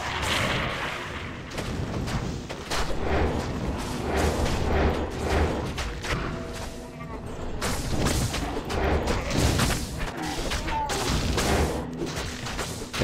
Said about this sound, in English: where the fuck is this catapult coming from?